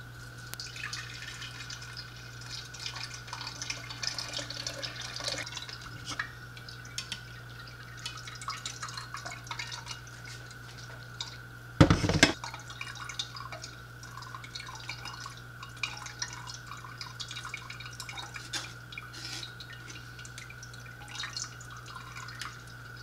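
Carrot juice strained through a sieve drips steadily and faintly into a cup over a long stretch, with a low electrical hum in the background and one brief louder clatter midway.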